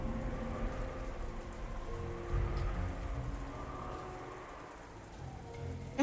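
Rain and wind sound continuously in the Umineko visual novel, a steady moderate downpour with low rumbling gusts and faint tonal background music underneath.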